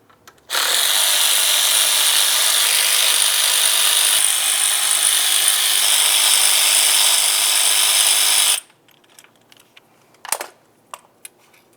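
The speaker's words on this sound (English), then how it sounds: "let's continue on by removing our 4 8mm headed mounting bolts that hold the throttle body to our plastic intake" A power ratchet loosens the 8mm throttle body mounting bolts on the plastic intake of a 2010-2013 Ford Transit Connect. It makes a loud, continuous whir for about eight seconds, followed by a few faint clicks and one brief knock.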